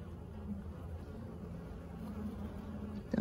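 Honey bees buzzing around an opened hive during an inspection, a steady low droning hum throughout, faint and close, with a brief louder bump at the very end.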